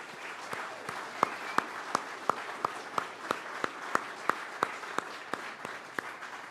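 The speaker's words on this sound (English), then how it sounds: "I'd just like to give them all a huge round of applause and thank them for their work" Audience applause at a political party leadership contest announcement: a steady bed of many hands clapping, with a few sharp, close claps standing out in a regular rhythm throughout.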